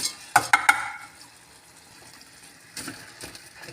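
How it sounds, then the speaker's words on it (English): Mixed vegetables tipped into onions frying in a pot for a lamb curry: a few sharp clatters and a burst of sizzle, then quiet frying with a soft stir near the end. "we're going to add our mixed veggies in"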